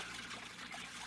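A fountain's water trickles and splashes in a steady, unbroken wash, fairly close and even in level throughout, with no voices.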